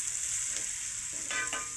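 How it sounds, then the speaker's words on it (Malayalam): Ginger, garlic, shallots and curry leaves fry in hot coconut oil with a steady close sizzle, with brief louder crackles and spits near the end. "കറിവേപ്പില ഇതെല്ലാം വെളിച്ചെണ്ണയിൽ വറുത്ത് ചേർക്കുകയാണ്."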